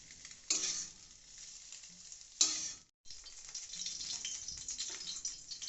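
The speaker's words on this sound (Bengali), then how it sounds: "এইবারে চিকেনটাকে আমরা ফ্রাই করে নিচ্ছি" Chicken frying in a pan, a close steady sizzle broken by a couple of sharp clattering bursts as pieces are added or moved.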